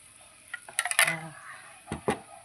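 A spoon stirs pau bun dough in a bowl, producing close clinks and scrapes against the bowl in two short bursts separated by quieter moments.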